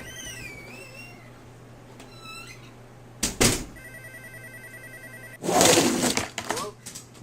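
A telephone rings in two loud, bright bursts a couple of seconds apart indoors, with a voice and quieter background sounds between the rings.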